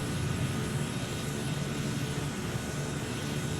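Steady broadband drone of a Transall C-160's aircraft engines in a flight simulator game on Xbox Series X, a constant roar with strong low-end hum and no gaps or speech.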